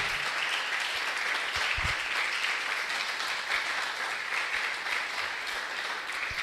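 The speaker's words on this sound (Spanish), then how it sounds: "Dale un aplauso al Señor porque Él es el que lo hace." Spanish-speaking church congregation giving sustained, even applause during a service, a full room of hands clapping steadily for over six seconds.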